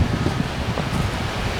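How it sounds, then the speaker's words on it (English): Strong gusty wind on a very windy day with gusts over 30 miles an hour, a steady rushing roar buffeting the microphone throughout. "It's very windy today. We've had gusts over 30 miles an hour."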